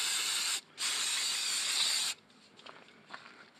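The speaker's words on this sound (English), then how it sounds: "if you have some brake cleaner, you can spray it off too." Brake cleaner sprays from an aerosol can in two loud, close hissing bursts split by a brief pause, then soft dripping and faint handling noises follow.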